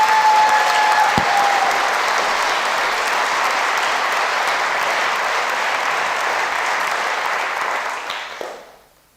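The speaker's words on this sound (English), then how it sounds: "A massively enthusiastic round of applause for Jagdeep Singh Ladhar." A university competition audience gives a long, enthusiastic round of applause, dense clapping holding steady at close range before tapering off to silence at the end.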